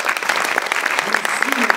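Audience applause at the Lumière 2021 film festival, a dense steady patter of many hands clapping close by, with a voice briefly audible over it near the end.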